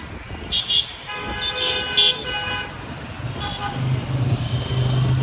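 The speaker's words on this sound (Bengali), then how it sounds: "টানা 10টা মিনিট আমরা ট্রাফিক জ্যামে গেছিলাম" Stop-and-go traffic in a Dhaka jam, with several short car horn toots close by over a rumbling idle of engines and a low motor drone building toward the end.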